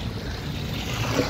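Water rushes automatically into a phosphating tank, a steady broadband gushing wash, loud and close for a brief moment without talk.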